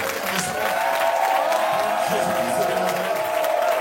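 A church congregation claps through a service marking a pastor's ten years of priesthood, a dense, steady wash of applause with a sustained tone and crowd voices mixed in.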